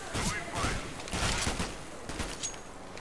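Rapid bursts of gunfire in a Counter-Strike match, dense repeated shots across the whole stretch, fairly loud and close, with a voice talking over them.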